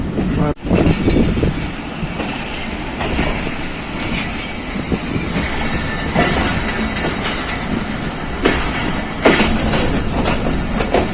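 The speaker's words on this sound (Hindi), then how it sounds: "शाहीन पैसेंजर अपने आखिरी स्टेशन वजीराबाद जंक्शन पहुंच गई। प्लेटफॉर्म पे लग रही है।" A Pakistan Railways Shaheen Passenger train pulls into the Wazirabad Junction platform at night, a loud, continuous rumble of wheels and carriages with steady clattering and a few sharper knocks.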